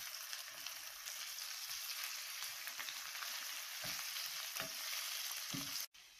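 Boiled, pitted olives sizzle in hot oil with garlic and spices for an olive pickle, a steady close frying hiss with a few stirring scrapes and a brief clatter near the end.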